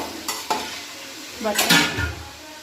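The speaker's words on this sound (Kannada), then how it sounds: "ಬೇರೆ ಈರುಳ್ಳಿನೇ ಒಗ್ಗರಣೆ ಆಯ್ತದೆ" Onions for tempering fry in a pan for a mutton curry at a village festival feast, with a soft sizzle and a few scraping stirs and clinks, close and moderately loud.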